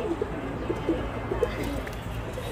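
Pigeons coo in a soft, repeated series of low calls close by, with faint background noise and no speech over them.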